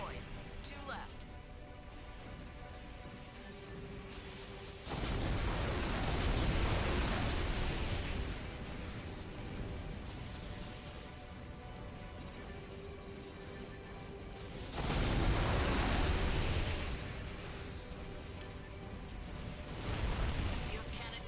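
Cannon blowing up in the video game Armored Core: For Answer, heard as two loud, booming bursts several seconds apart, each swelling over a continuous low drone of battle noise.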